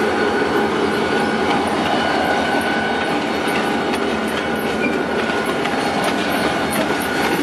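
An old SD40 locomotive hauls a train of gravel cars for railway repair in northern Paraná, Brazil, passing in the rain with a loud, steady rumble and rhythmic clickety-clack of wheels on rail joints throughout.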